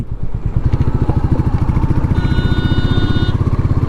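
A new Royal Enfield Meteor 350 motorcycle engine thumps steadily at close range, its deep, rapid, rhythmic beat holding a constant pace with a faint high whine partway through.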